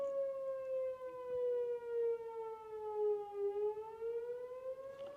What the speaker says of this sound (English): tornado siren warnings.